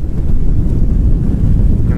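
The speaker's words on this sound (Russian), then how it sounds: "Немножко раздуло ветер." Steady low wind rumble buffeting the microphone aboard a sailing yacht at sea, loud and continuous throughout with no voices.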